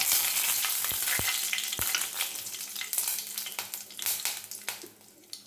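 Dried red chilies frying in hot oil for sambar rice, a steady bright sizzle with occasional sharp pops and spoon clinks, fading somewhat toward the end.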